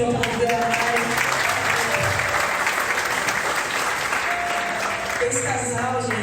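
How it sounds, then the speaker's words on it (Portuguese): A church congregation applauds steadily and loudly at a Portuguese-language service, with sustained dense clapping throughout and voices and a tonal background sound faintly beneath. "Aplauda o Senhor"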